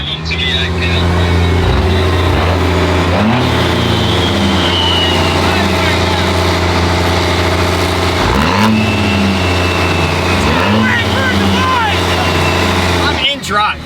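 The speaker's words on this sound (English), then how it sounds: "That's what trans that is slipping a lot looks like." Pickup truck with a badly slipping transmission, engine revving up and down in uneven surges while it idles loudly and steadily up close, with no gear engaging.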